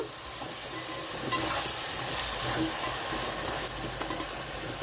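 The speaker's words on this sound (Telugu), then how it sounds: "కరివేపాకు ఇవి కూడా మగ్గాలండి కొంచెం" Curry leaves with okra and tomato sizzle and fry in a pan. The frying crackles steadily and close, with occasional stirring scrapes and no talk.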